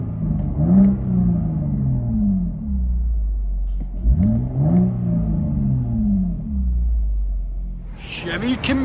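The Borla ATAK axle-back dual exhaust on a 2018 Chevy Camaro RS V6, resonator still fitted, heard from inside the cabin through two strong revs rising and falling over an idle rumble, followed by a brief hiss at the end.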